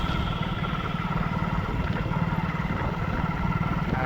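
A motorcycle ridden slowly along a town road in Gujarat, its engine giving a steady low rumble with road and wind noise, close and continuous throughout with no talk.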